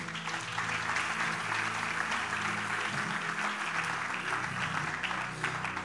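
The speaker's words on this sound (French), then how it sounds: "Acclamez d'abord, on va avancer." A church congregation claps together in sustained applause at a French-language sermon, a dense, steady wash of many hands close around, continuing without a break and with no voices over it.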